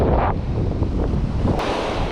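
Strong wind buffets the microphone at the seaside during shrimp cast-netting, a loud continuous roar with gusty rumble and surf-like hiss throughout and no voices.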